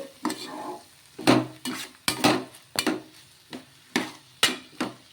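A spoon stirs grated coconut as it fries in a pan for a coconut curry, giving about nine loud, close scraping strokes at a steady rhythm, each with a sizzling tail. No voices are heard.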